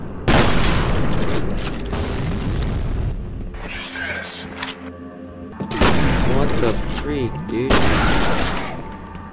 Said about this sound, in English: Where are these gunshots coming from?